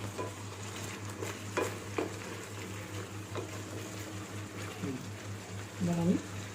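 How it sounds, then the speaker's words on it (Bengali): Homemade pizza sauce simmers in a pan on a medium flame, giving a soft steady bubbling with occasional stirring scrapes and clinks, fairly quiet throughout. "মিডিয়াম ফ্লেমে এই সসটা তৈরি করছি আমি"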